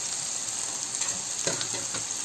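Three finely chopped onions fry in a pan, giving a steady, close hiss with a few brief crackling bursts and no voices.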